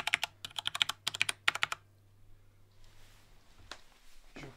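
Rapid bursts of keystrokes clatter on a new compact computer keyboard with PBT keycaps, close and clear in quick clusters, then quieter taps over a low hum.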